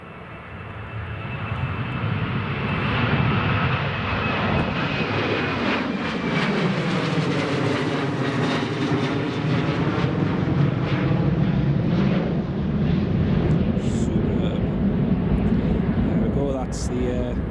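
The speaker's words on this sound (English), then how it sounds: "First TUI 737 away." TUI Boeing 737 jet taking off at Newcastle International Airport, a long, powerful roar that swells and sweeps past with a falling whine, then holds as a steady rumble, with a voice over it at times.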